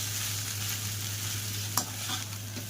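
Chicken Hakka noodles are tossed and stirred in a pan over a steady sizzle and low hum, with a sharp scrape of the utensil near the end.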